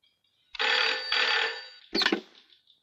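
An old telephone bell from a 1988 Marathi comedy film rings in two long, loud bursts, then a shorter third burst, close and clear with no talk over it.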